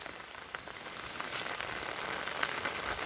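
Steady rain patters on a surface in a rural setting with cattle nearby, a dense even hiss with scattered drop ticks, fairly close and continuous, with no voices.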